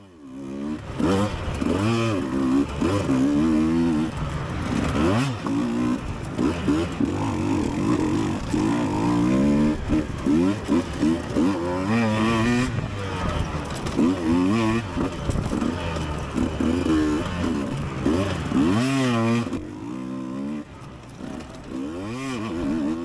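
A dirt bike screams along a cross-country race course, loud and close, its engine revving hard in rising and falling bursts as it is held wide open up a hill, with rattling and clatter over rough ground.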